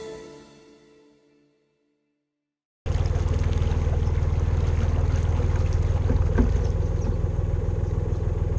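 A fast boat cruises past on the water, its motor a loud, steady drone with a rushing wash. A fading ringing tone and a moment of silence come before it.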